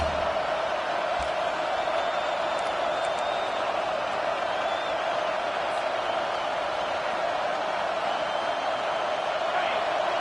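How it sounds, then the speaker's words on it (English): A college football stadium crowd roars steadily behind the home defense on third down, a dense, sustained wall of noise with no breaks, heard from within the stands. "Decibels rising as the crowd gets behind this defense on 3rd down."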